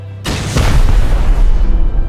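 A loud, booming explosion in the survival game Rust goes off after a brief quiet, its low rumble rolling on and slowly decaying with no voices present.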